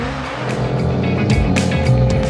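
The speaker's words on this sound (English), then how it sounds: "Dylan Hughes, watch this, he's going to drop in and spins out" A drift car at a drifting competition spins out, its engine roaring loud and close with harsh tire squeal throughout, under constant racing noise and no talk.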